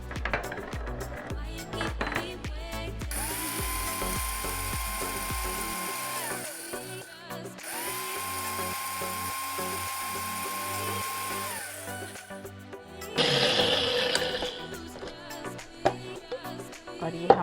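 Electric spice grinder pulverising coriander seeds and dried pomegranate seeds, a loud whining motor that runs in two long bursts, then a rougher rattling grind, with clinks and handling noises between runs.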